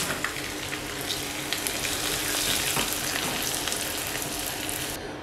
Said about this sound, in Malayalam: അതിനുശേഷം വെളുത്തുള്ളി, ഉള്ളി, എല്ലാം ചേർത്ത് നന്നായി വഴറ്റിയെടുക്കാം.